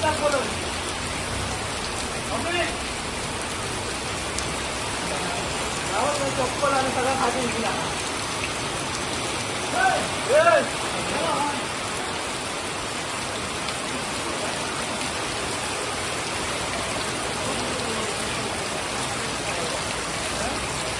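Heavy monsoon rain falls in Sindhudurg district during flooding. It is a steady, dense, loud hiss of rain on surfaces that runs unbroken throughout.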